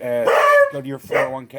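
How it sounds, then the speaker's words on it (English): A beagle barks a few times close by, loud and yappy, mixed with someone speaking over it. "that was my dog"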